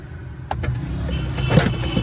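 Mercedes W124 power antenna motor running as the mast extends, a short mechanical whir starting abruptly and holding steady, close to the car, with a brief louder buzz near the end.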